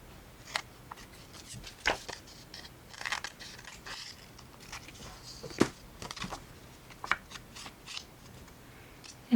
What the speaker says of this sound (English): Now I'm going to trim these off.